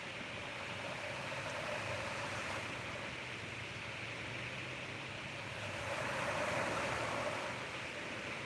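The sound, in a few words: ocean waves breaking on the beach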